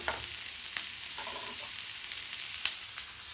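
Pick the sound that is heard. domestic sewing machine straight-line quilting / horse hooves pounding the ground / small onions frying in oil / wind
small onions frying in oil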